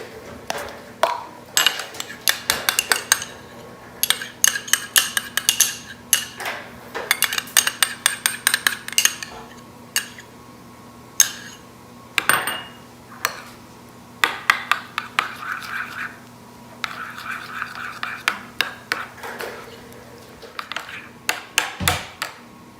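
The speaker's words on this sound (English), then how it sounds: "you're going to take 1 cup of sour cream and 1 egg yolk and mix them together." Sour cream and an egg yolk stirred together in a bowl, with a utensil repeatedly scraping and clinking against the bowl in uneven bursts, close and fairly quiet, no talking.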